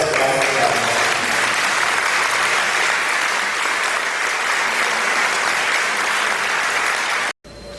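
Loud, sustained applause fills a parish church after a sermon, dense and steady for about seven seconds before stopping abruptly, followed by a brief quieter resumption.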